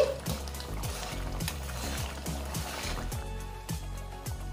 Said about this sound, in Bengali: এবারে কিছুক্ষণ ফুটিয়ে নিচ্ছি।